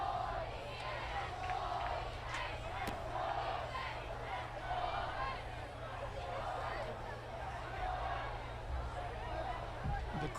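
Football game crowd at a high school matchup, Basha versus O'Connor, roaring and cheering steadily at a distance throughout, a dense sustained wall of voices with no clear break.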